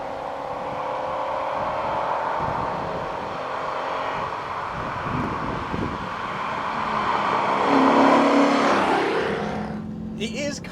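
A car engine runs steadily close by, its tone rising and swelling as the revs climb, then dropping off abruptly at the end.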